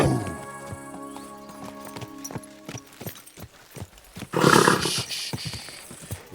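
Horse hooves clip-clop in the medieval game Kingdom Come: Deliverance 2, scattered hoofbeats mixed with game music, then a loud roaring burst near the end.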